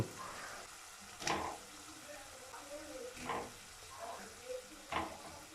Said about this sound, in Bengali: এবার আমরা এতে আলু ভাজাগুলো দিয়ে দেব